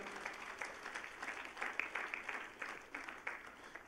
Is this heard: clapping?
yes